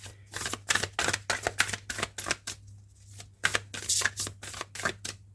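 A deck of oracle cards is shuffled by hand in quick, repeated riffling bursts with a brief pause midway, close and crisp in a quiet room.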